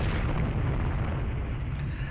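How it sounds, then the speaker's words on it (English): Huge 18-inch naval guns firing in the warship strategy game Rule the Waves 3: a loud, continuous heavy rumble of deep overlapping booms with no voices. "It's so good to hear those big 18-inch guns finally roar into life."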